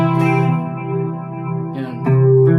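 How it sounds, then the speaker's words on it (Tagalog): Clean-tone electric guitar run through the delay of a Mvave Tank G multi-effects pedal, sustained chord ringing with repeating echoes, then a fresh strum near the end, loud and alone. "Lagyan natin ng delay."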